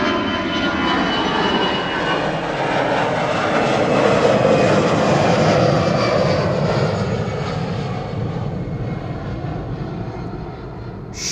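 A Turkish Airlines Airbus A330 jet taxis at Amsterdam Schiphol, its engines giving a steady, moderately loud roar and whine that swells slightly midway and then eases as it moves along.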